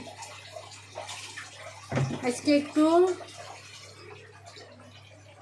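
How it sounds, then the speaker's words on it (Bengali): Water pours into a cooking pot of beef curry to make a thin gravy, a short splashing burst in the middle of the clip, with someone talking quietly before it and a soft hum in the background. "ঝোল ঝোল রাখবো এজন্য একটু পানিটা বেশি দিলাম"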